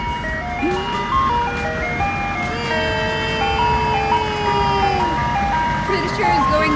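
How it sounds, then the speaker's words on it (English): Ice cream truck playing its jingle as it approaches along a street, the melody loud and clear throughout with engine rumble underneath and a voice briefly heard. "Yeah, the ice cream truck is coming."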